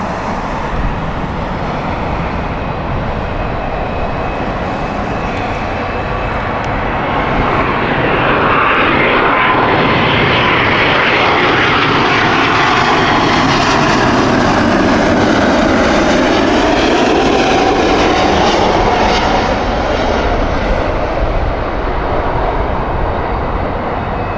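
A jet airliner departs Heathrow Airport, its engine roar swelling loud and close as it passes, then slowly fading into the distance, with faint road traffic underneath.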